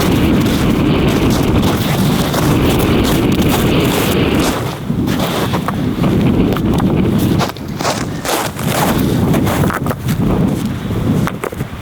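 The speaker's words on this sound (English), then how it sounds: "it's windy, and all of us are pretty cold" Strong wind on a mountain top in a blizzard, about 28 degrees: loud, constant roaring gusts buffeting the microphone, with rumbling and brief lulls throughout.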